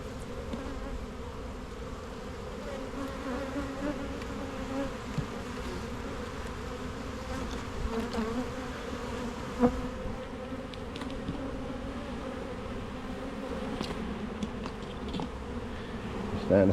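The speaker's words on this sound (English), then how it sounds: "Having a really close look at all of these bees." Honey bees hum steadily and densely at close range while a beehive is opened and inspected, a continuous buzzing swarm with a few faint knocks and no speech.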